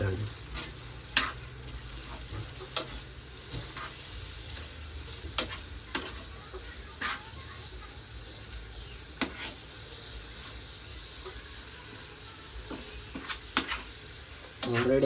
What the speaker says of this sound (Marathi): कोलंबी अशी टाकून घ्यायची आहे आणि त्यानंतर ते मिक्स करून घ्यायचे आहे